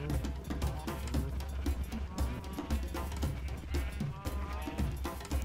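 Cow mooing in the Minecraft video game, bleating animal calls repeated over a steady low hum and busy game sounds, fairly loud throughout.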